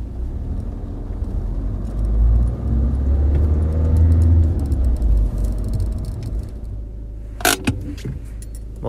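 A car drives along a road with a steady low engine and tyre rumble from inside, swelling slightly midway, with a brief metallic jangle near the end.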